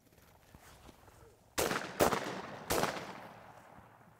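Three sharp shotgun blasts ring out in southern woods during a quail hunt, the first two close together and the third about a second later, each one echoing briefly through the trees.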